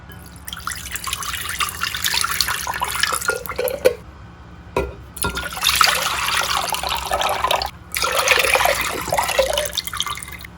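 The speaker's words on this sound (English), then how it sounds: "put 3 cans of beef broth in the crock pot" Canned beef broth poured into a crock pot in several bursts, close splashing and gurgling liquid with short pauses between pours.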